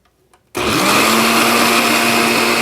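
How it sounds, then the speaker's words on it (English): A blender switches on at high speed after a brief quiet moment and runs steadily and loudly, whirring through barley milk with a constant high-pitched motor drone and no talking. "You just dump it in a blender right there. And then you have to put this on high for about 4 minutes"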